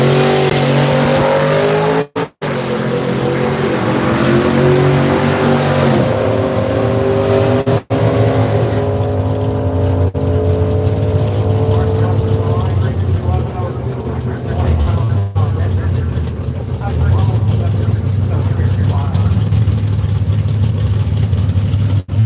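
A Chevrolet Camaro at Seattle International Raceway revs loudly and close, its engine roaring and climbing in pitch over a sustained drone, with voices faintly in the mix.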